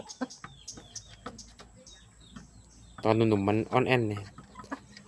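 Clucking and calls from Burmese game chickens at a farm, a few short sharp calls early on, then a louder drawn-out crowing call near the middle, with someone talking in between.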